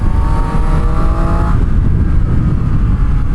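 A 2019 Triumph Street Triple R motorcycle engine revs hard and loud up close, its rising tone climbing before settling into a steady roaring drone.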